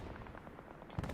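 Gunfire in the Hell Let Loose video game, with a low soft rumble giving way to a short burst of sharp, loud shots near the end.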